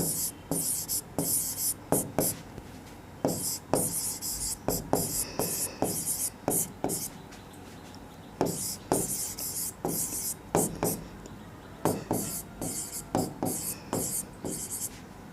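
Marker or chalk strokes on a classroom board during a chemistry lesson, a long run of short, close scratches and taps in an irregular rhythm with brief pauses, and no talking over them.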